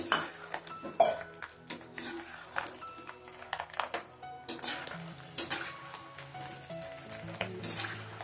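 Raw peanuts crackle and sizzle in hot oil in a pan for kara boondi, with frequent metal clinks and scrapes of a ladle stirring them, close and continuous.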